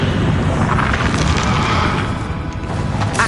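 Confringo blasting spell in Hogwarts Legacy erupts in a loud, sustained rumbling explosion, dense low boom with crackling debris across the whole burst.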